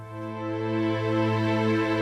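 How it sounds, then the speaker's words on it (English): Medipads plays a flat synth pad, a sustained, smooth tone with rich stacked harmonics that swells in gently from quiet and then holds steady and alone. "So the flat pad sounds like this."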